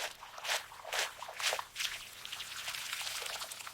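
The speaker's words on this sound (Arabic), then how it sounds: "دابا نغسلوا الخضره ديالنا" Vegetables for a Moroccan fish and vegetable tagine washed by hand under water in a rural setting, with close splashing, dripping and wet rubbing in irregular bursts, no talk.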